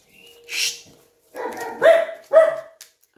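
Dachshunds and German shepherds bark at home in the morning, giving a few sharp, close barks and yips in quick succession with short gaps between them.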